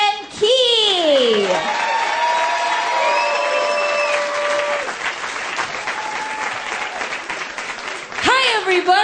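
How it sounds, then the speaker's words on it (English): Loud applause and cheering from a comedy club audience greeting comedian Kristin Key, with whoops and voices rising over the clapping, which fades slightly before surging again at the end. "Please give a big round of applause for Kristin Key."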